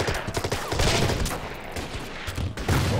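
Artillery fire rumbles in the Burma Road Irrawaddy River campaign of the strategy game Order of Battle, a rapid cluster of booming blasts and crackling impacts packed into a few seconds, loud and close, with no voices.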